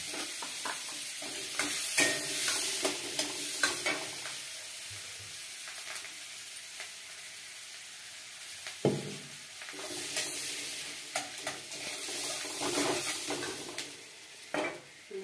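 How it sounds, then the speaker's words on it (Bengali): Garlic frying in butter for tomato soup, a soft continuous sizzle with intermittent stirring and clinks of a utensil against the pan, fairly close, no talking. "এবার রসুন দিচ্ছি"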